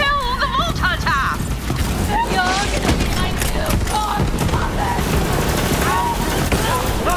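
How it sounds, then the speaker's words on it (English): Borderlands 3 combat is loud and busy, with rapid gunfire, explosions and mechanical clatter layered under steady shouting voices and game music. "Wake your empty head up and start shooting!"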